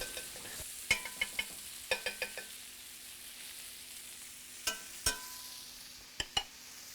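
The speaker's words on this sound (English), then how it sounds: "time for the butter action. We'll just work it around the outside of the pan." Butter sizzles in a hot frying pan as it is worked around the edges, a soft steady hiss under a series of sharp clicks and taps from utensils on the pan, quiet and close with no speech.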